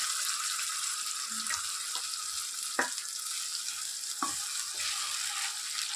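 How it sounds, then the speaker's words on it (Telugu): Drumstick and potato curry masala frying in oil in a pan, a steady bright sizzle throughout with a few sharp clinks and scrapes of stirring, close and continuous. "అడుగు అంటకుండా ఆయిల్ మీద తేరే వరకు కొంచెం వేయించుకోవాలి"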